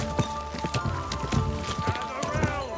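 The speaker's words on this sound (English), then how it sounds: "Easy, good horse." Horse hooves in the Kingdom Come Deliverance 2 video game, a steady rhythmic clip-clop of a horse moving at a walk on a hard surface, accompanied by a sustained tonal background sound.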